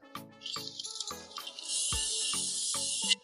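Can of WD-40 Specialist Gel lubricant sprayed onto a tool, a sustained close hiss of spray running for about two seconds amid clicks and handling knocks.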